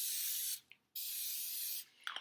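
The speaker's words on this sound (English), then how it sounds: "I'm going to spray them with the spray," Cooking spray hisses onto crepe skillets in two close, bright bursts separated by a short pause, followed by a faint rattle of handling.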